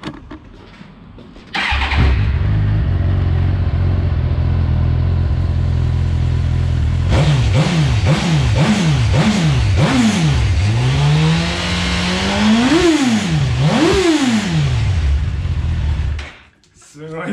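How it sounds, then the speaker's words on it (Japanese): A Suzuki inline-four superbike of about 180 horsepower with its stock muffler starts up and idles, then is revved repeatedly in sharp rising and falling blips before settling and shutting off, loud and close. "直列4気筒のスズキのスーパースポーツのサウンドと、これ純正マフラーですからね"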